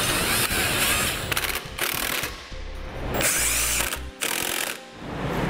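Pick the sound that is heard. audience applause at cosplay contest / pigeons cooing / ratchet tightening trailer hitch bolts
ratchet tightening trailer hitch bolts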